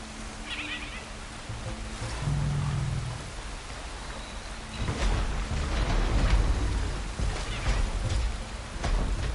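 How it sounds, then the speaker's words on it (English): Steady rain hiss in Horizon Forbidden West, a continuous wash of falling drops that swells louder midway, with a horse-like whinny early on and no talk. "Of course, rain."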